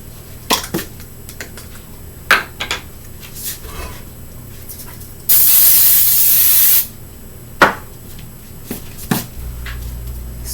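A can of cooking oil sprays into a skillet in one steady hiss lasting about a second and a half, loud and close. Scattered clinks and knocks of kitchen handling come before and after.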